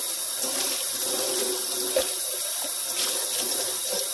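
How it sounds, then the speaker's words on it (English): A tap runs steadily into a sink while dishes are washed by hand, with faint clinks and splashes over the constant rush of water. "I hand wash my dishes."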